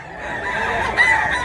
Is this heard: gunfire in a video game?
no